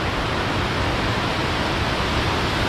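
Buana waterfall in Bali roars in a dense, steady wash of falling water, loud and continuous, with no voices.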